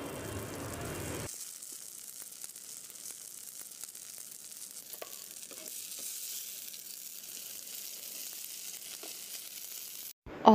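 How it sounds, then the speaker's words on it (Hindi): Bottle gourd dropped into hot ghee tempered with cumin, asafoetida and turmeric gives a loud burst of sizzling. The sizzle drops to a faint, steady crackle of frying with occasional small pops. "यहाँ पे मैं घी के अंदर इसको छोकूँगी क्योंकि लौकी की सब्ज़ी है"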